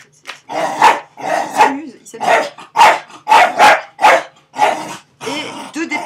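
Dogs bark loudly and close by in a rapid series of about ten sharp barks with growls between them, while a person briefly speaks.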